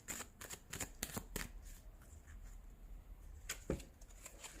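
Tarot cards shuffled by hand in a quiet room, giving a run of quick papery riffles and soft slaps in irregular bursts, with a few sharper flicks near the end and no voices.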